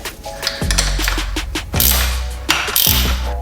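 A ratchet tightens a lock nut on a BURSIG center lift motorcycle stand for a Yamaha MT09, with a close, rapid clicking of pawl teeth in several short bursts over a low mechanical hum.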